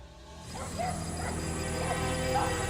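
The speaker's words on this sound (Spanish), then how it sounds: "En la calle el perro de la familia ladraba y aullaba de una manera muy extraña." A family dog out in the street barks and howls oddly, its yips and wavering whines rising a few times over a steady background hum.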